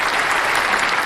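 Short burst of crowd applause, loud and steady, many hands clapping together with no voices over it.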